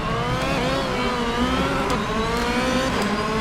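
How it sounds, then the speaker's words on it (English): A race car in the rFactor 2 video game spins its wheels at a race start, the engine wailing loud and steady at high revs, with rising and falling tones as gears shift, and no voices. "Lots of wheel spin."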